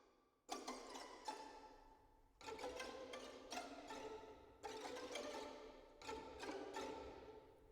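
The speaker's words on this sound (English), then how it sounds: "we have the light loose Col Legnos, which is played on the back of the bow again, and it's similar to a pizzicato" A string ensemble plays light, loose col legno strokes with the wood of the bow, giving dry, percussive clicking chords. They come in short bursts of repeated taps with brief gaps between phrases, recorded as a Spitfire Albion V sample library.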